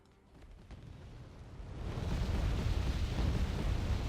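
Artillery or unit fire in the real-time strategy game Wargame: Red Dragon, a rumbling low boom that swells over the first two seconds into a sustained roar, alone without talk.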